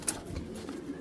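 A pair of army-line pigeons coo softly and close by, with low murmuring calls and a brief sharper flutter near the start, amid faint rustling movement.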